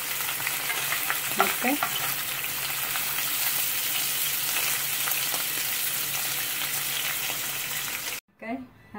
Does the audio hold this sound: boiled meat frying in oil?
yes